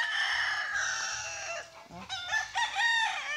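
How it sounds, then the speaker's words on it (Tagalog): Several chickens and a rooster crow and cluck close by in a rural yard, loud bird calls layered with a brief human exclamation. "Marami silang manok guys, oh."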